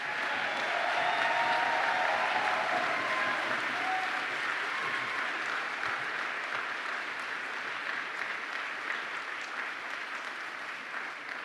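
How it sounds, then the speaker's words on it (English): Graduation commencement ceremony audience applauding, a dense sustained wash of clapping from a large crowd that stays loud throughout and slowly eases off toward the end. "Give them one more round of applause."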